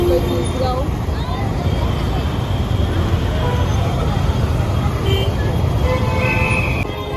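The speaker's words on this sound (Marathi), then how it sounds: "एवढा गाड्यांचा आवाज येतो खूप" Road traffic at a village fair (jatra) in Tisgaon, a dense continuous roar of passing vehicles with occasional horn toots, loud and steady throughout.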